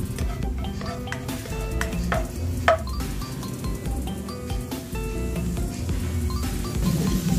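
Onion and garlic sizzle in a hot pan while a utensil stirs and clinks against the metal, with a steady frying hiss under the scraping.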